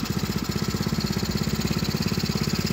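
A 50cc tricycle's small engine chugs in a fast, even pulse as it pulls away in second gear, close and steady with no voices.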